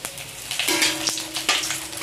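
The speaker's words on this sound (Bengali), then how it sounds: "তেলের মধ্যে আর অল্প তেল দিয়ে দিলাম, দিয়ে দেব 5 ফোড়ন তেজপাতা, লবঙ্গ, এলাচি আর দারচিনি" Whole spices, bay leaf, clove, cardamom and cinnamon, crackle and sizzle in hot oil in a home kitchen, with a few sharp pops over a steady fry.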